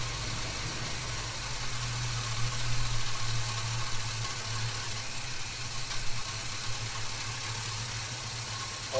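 A Holden HK Premier wagon's engine idles slowly at about 500 RPM, a low, even rumble holding steady for several seconds, faint and close with no voices.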